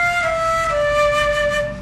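A flute plays three sustained notes stepping downward in a smooth legato line, from a high tone to two slightly lower ones, close and clear with no voices.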